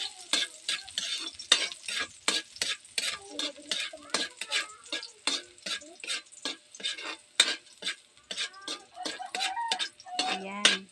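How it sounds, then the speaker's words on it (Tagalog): Garlic frying in a pan while being stirred, a steady rhythm of scraping utensil strokes over a soft sizzle, close and fairly quiet, with a few light metallic clinks. "Tapos, bawang. At ating haluin."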